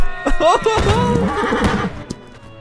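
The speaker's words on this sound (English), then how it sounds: "There's so many horses." Horses neigh and whinny in the Holdfast battle game, several loud, wavering calls close together with faint hoof clip-clop, while a voice talks over them.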